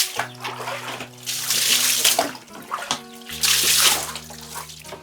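Water splashes and pours steadily as a dining table is washed, with running and splattering noises rising and falling close by and no one talking.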